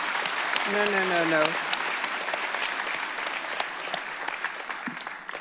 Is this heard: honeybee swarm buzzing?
no